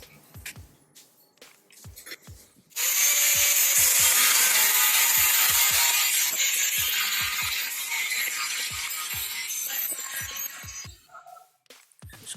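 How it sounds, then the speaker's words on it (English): A power tool cuts through two small strips of steel with a loud, harsh, continuous grinding rasp lasting about eight seconds, after a quieter start with faint ticking and scuffing. "It's cutting two small strips of steel."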